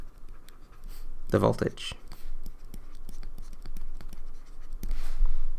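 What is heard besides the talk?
writing an exam answer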